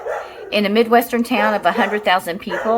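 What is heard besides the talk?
dogs barking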